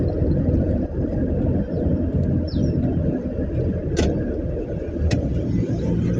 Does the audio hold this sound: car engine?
yes